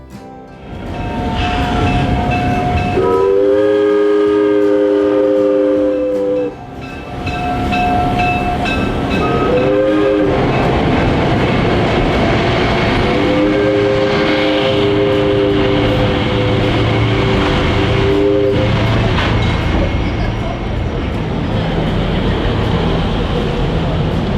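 A diesel locomotive train on the Orlando & Northwestern, with an L&N GP30 and a GP9, rumbles past loud and close, its horn sounding in several long blasts over steady wheel and engine noise.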